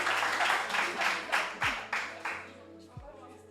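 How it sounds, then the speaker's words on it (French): Audience applause at an F1 awards show, loud bursts of clapping that fade out over a few seconds, with a few low thumps. "Il faut les applaudir super méga fort."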